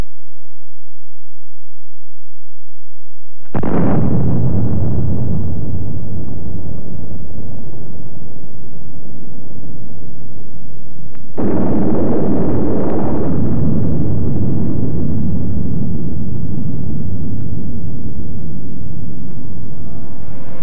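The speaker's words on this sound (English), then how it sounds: "The Mark 9 artillery-fired atomic projectile is for use in the Army's 280 millimeter gun." A 280 mm Army artillery gun fires a Mark 9 atomic projectile, booming twice as two loud, long, rumbling blasts that each roll away slowly. Both blasts stand alone with no talk.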